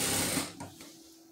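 A sewing machine stitches knitted fabric in a short burst of rapid mechanical whirring that winds down and stops within about a second, fairly quiet and close.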